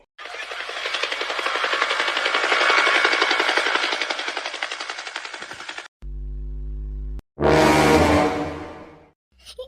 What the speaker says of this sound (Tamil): ஹெலிகாப்டர் ரிட்டர்ன் போகுது